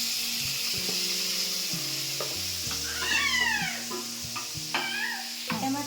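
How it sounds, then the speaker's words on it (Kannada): Tomatoes, green chillies and garlic fry for a chutney, a steady close sizzle with occasional stirring scrapes, while a cat meows a few times in the background. "ಟೊಮ್ಯಾಟೊ ಸ್ವಲ್ಪ ಸಾಫ್ಟ್ ಆಗಬೇಕಂತ ಫ್ರೈ ಮಾಡ್ಕೊಳ್ತೀನಿ."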